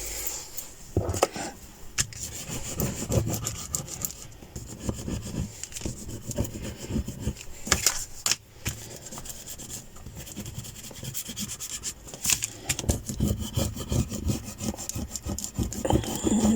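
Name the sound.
burnishing down a book cover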